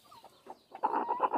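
A hen clucks while pecking at an egg, soft scattered sounds building into a louder run of close, throaty clucks, with no speech.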